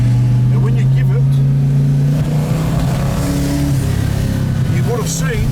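A Ford GTHO Phase 3 tribute's engine idles with a strong low rumble and then builds in a rev, loud and close, while someone talks over it.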